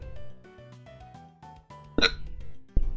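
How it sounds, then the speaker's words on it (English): A single sharp hiccup bursts out partway through, followed by a shorter second catch, heard over soft background music. "It's a lot of yawns and a lot of hiccups for me today."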